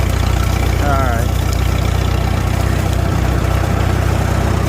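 An antique tractor engine chugs steadily in third gear with its PTO spinning, a loud, constant low rumble that fills the whole stretch while a short voice-like warble rises briefly near the start.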